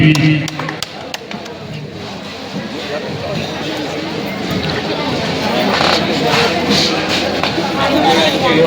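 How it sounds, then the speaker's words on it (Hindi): A village gathering in Sirukamma, Harda district, Madhya Pradesh, applauds local women. Crowd clapping swells through the second half beneath a murmur of voices, with someone speaking over it. "एक बार जोरदार तालियों से इनके लिए कर दो"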